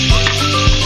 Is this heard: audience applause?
no